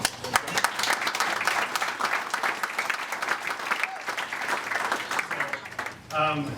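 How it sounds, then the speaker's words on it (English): Dense audience applause at a college athletics hall of fame induction, a loud, sustained wash of many hands clapping that carries on steadily and briefly gives way to a voice near the end. "Thank you for the round of applause."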